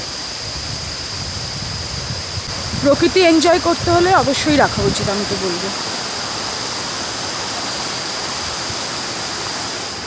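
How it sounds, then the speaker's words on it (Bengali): A waterfall at Ganga Maiya Park in Darjeeling roars as a constant, broad rush of water with a steady high insect-like whine above it; a person speaks briefly over it midway. "আর ওয়াটারফলসের আওয়াজ,"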